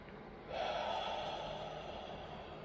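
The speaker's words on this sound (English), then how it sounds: "I want you to take a deep breath with me" A single deep breath drawn in sharply and held with a soft airy rush, close and quiet, with no talk over it.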